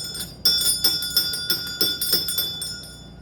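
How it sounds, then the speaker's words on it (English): A boat club bell rung by hand behind the bar, a series of bright metallic strikes with ringing overtones, loud and close, repeating roughly every third of a second and fading at the end. "approach the boat club bell, grasp the bell firmly"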